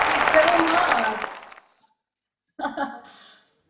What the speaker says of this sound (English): I love this applause.